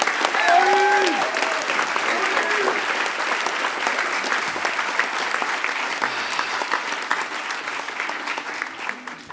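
Applause from a large hacker-conference audience at a closing ceremony greets the head of security, a dense sustained clapping that holds steady and slowly thins, with a few voices and whoops on top.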